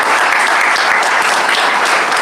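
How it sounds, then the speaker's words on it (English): Dense, steady audience applause fills the room at an alumni reunion evening, many hands clapping loudly and continuously throughout with no break. "A round of applause"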